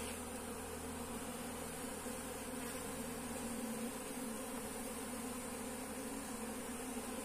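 Honeybees from a recovered colony that had turned drone-laying buzz in a dense, steady drone during a hive inspection while feeding for the dry season, continuous and close throughout with no talking.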